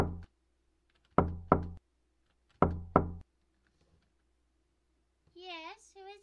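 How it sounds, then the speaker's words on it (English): Knocking on a door in the video game The Crooked Man, two pairs of firm, close double knocks with a pause between, followed by a person talking. "Knocking gets no response."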